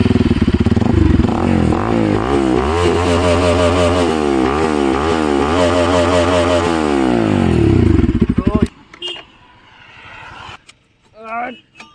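A Bajaj NS200 BS6 motorcycle fitted with an SC Project full-system exhaust revs loudly and repeatedly close by for about eight seconds, then cuts off, followed by a few quieter sounds and brief voices.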